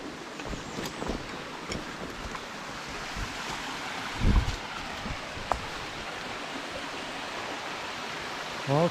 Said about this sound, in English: Now we have some waterfalls, same creek further down